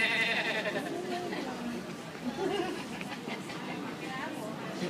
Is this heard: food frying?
no